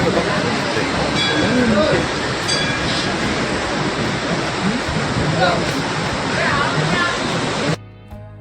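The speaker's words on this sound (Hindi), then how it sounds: "आपको मैंने सरस्वती नदी का प्रवाह दिखाया" Rushing flow of the Saraswati river near Badrinath in the Uttarakhand Himalaya: a loud, steady broadband roar of turbulent water that continues for most of the clip, then drops off abruptly near the end.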